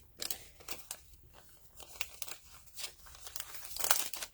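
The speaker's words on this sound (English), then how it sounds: "And I keep it in here, and I put it in a cellophane bag." Cellophane bag crinkling in quick, light bursts while a paper pumpkin craft is packed away, soft and close with scattered rustles and snips.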